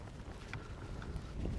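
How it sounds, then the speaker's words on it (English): Wind rises on open water during a fishing trip off Pig Island, a steady low rumble of wind buffeting the microphone with faint splashes mixed in, filling the whole moment without speech. "That wind's coming up, making it a little more harder to fish."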